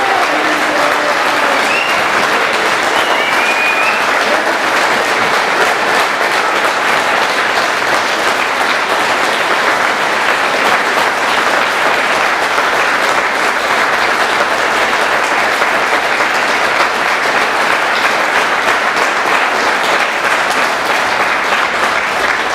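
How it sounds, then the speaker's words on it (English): A crowd at a NO2NATO anti-war rally breaks into sustained applause for Julian Assange, a dense, even roar of clapping that continues unbroken for over twenty seconds. "A big round of applause for Julian Assange."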